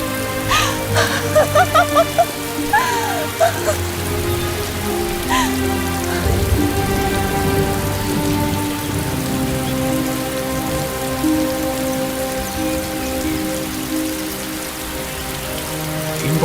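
Heavy rain falls steadily and loudly on surfaces, a dense continuous hiss with patter, while faint voices and music sit underneath early on.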